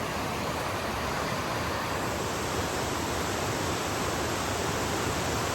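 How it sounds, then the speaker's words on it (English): Water pours over a weir on the upper River Teign, swollen after heavy rainfall, making a loud, steady broadband roar that stays constant throughout with no other sounds. "And there's the weir."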